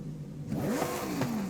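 A Lamborghini Huracan STO with a racing exhaust revs in the Forza Horizon 5 racing game, a steady idle giving way to a loud rising rev, a falling sweep, then a second sharp blip that drops back down.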